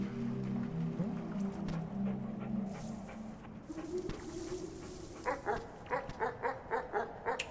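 Red dogs in a video game bark and yip, first under a steady musical drone and tonal game sounds, then a run of rhythmic, evenly spaced barks that grows louder toward the end.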